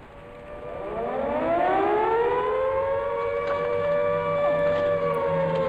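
A wailing civil defense style siren from the horror video game Silent Descent rises in pitch and holds a loud, sustained tone with layered harmonics, droning steadily on its own.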